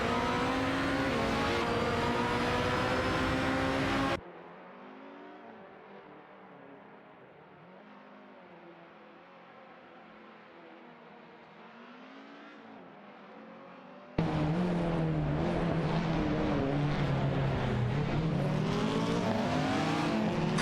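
Race cars compete on a track in an AI-driven racing video game, with loud sustained engine whine and revving that drops to a muffled drone in the middle before roaring back.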